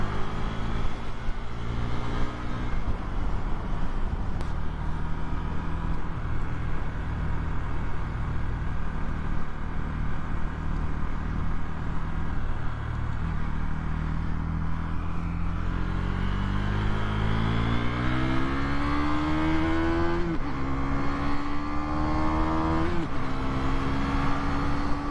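A KTM Duke 390 motorcycle being ridden, its engine droning steadily and loudly, then revving up through rising pitch sweeps toward the end with wind noise throughout.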